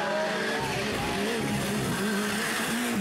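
A Suzuki rally car races on a stage, its engine revving high and wavering steadily under a loud, continuous roar.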